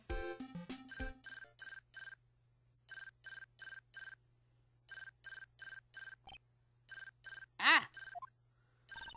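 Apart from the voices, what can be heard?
phone ringing in video game Ace Attorney: Justice for All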